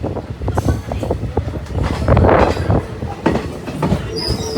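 A DEMU passenger train running on rails near Kukkal railway station, with a loud continuous rumble and rattling wheel noise, close and steady throughout.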